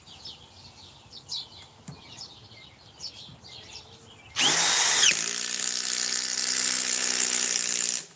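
After some faint chirping birds, a cordless power drill rated at 1,950 inch-pounds whirs up abruptly and runs close and steady with a high motor whine for several seconds.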